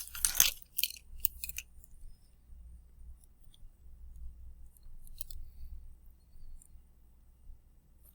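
Scissors cutting an off-brand Alka-Seltzer packet: a few quick, crisp snipping and crinkling clicks at the start, then faint scattered ticks over a low background hum, close and quiet.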